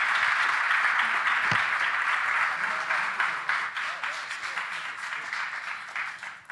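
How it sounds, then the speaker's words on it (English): Audience at a policy forum applauding a panel of speakers, a steady wash of clapping from many hands that slowly thins out toward the end, with faint voices mixed in. "please join me with to applaud for panelists"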